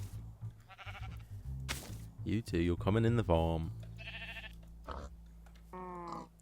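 Sheep in the Minecraft video game bleat several times in short, nasal, quavering calls between other game sounds, while someone talks over them in bursts.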